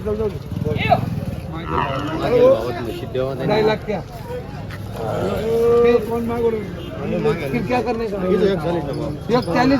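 Water buffaloes moo repeatedly at a busy livestock market in Dhule, with loud, drawn-out calls rising over steady crowd chatter and nearby voices talking throughout.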